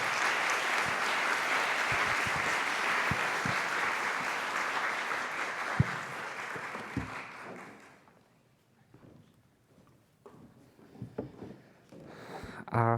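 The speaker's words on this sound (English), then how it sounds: "please give a round of applause to Dr. Jenny Lee" Audience applause after a talk at a university symposium, steady dense clapping that swells for several seconds then fades out, leaving a quieter room with scattered sounds.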